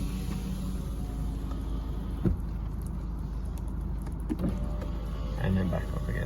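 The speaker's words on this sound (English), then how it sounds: "So what we're going to do is use the buttons here to take the window down" A Ford Focus power window motor hums steadily as the glass lowers, a continuous mechanical whir inside the car over cabin noise, with someone talking over it.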